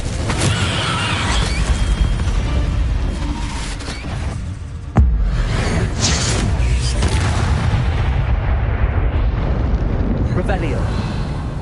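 An Incendio fire spell blast in the video game Hogwarts Legacy, a loud roaring, booming burst of flame that rumbles continuously with a sharper hit partway through.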